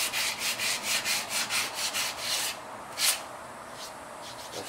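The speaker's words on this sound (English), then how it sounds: "So now I'm going to take some 220 sandpaper and very gently just go over the edges." 220-grit sandpaper rubs gently over the edges of repaired plaster in a series of quick rhythmic strokes, about ten soft scratchy passes, then a pause and a few lighter rubs, close and quiet.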